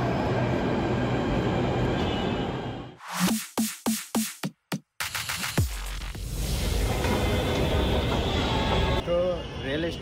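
A Delhi Metro train runs, a steady rumbling rush interrupted by a burst of rhythmic clattering and a sharp dropout, then resuming beneath people talking.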